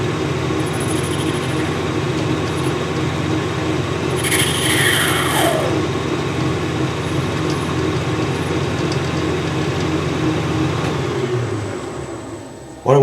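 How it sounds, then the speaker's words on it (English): A lathe hums steadily with a continuous metallic cutting whine as it faces the end of a brass rod held in a collet chuck, briefly rising to a higher squeal midway, then winding down near the end. "I've got my bit of brass run up on the collar chuck on the lathe"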